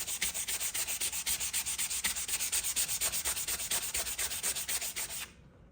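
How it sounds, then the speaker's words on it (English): Sanding sponge scrubbing the frets of a Squier Jaguar guitar, a steady back-and-forth rasp of about two strokes per second, close and even, alone with no voices, ending abruptly. "after that second grade of sanding sponge"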